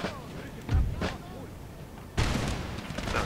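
Cannon fire in the Empire: Total War strategy game, with two or three deep booming artillery shots at uneven intervals, moderately loud against a muffled battlefield background.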